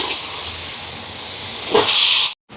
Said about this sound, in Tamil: இந்த எண்ணெயிலேயே கொஞ்சம் வதங்கட்டுக்கும் சிக்கன்